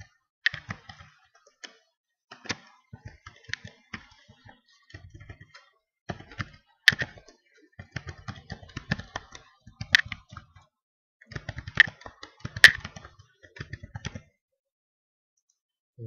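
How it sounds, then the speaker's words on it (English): Username and password are typed on a computer keyboard in quick bursts of soft clicking keystrokes separated by short pauses, close and quiet with no other sounds. "So later gonna key in the username and password and to confirm your password."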